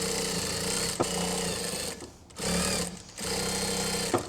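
Sewing machine running in long steady bursts while stitching pieces of a tote bag together, loud and close, with brief pauses between seams and no talking.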